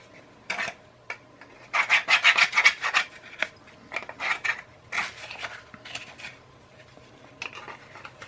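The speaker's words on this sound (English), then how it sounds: "clean the inside out of any burrs and leftovers from the drilling" Drilled holes in a Kydex knife sheath are deburred with short, scraping rasps, near and close, coming in irregular bursts with brief pauses between strokes.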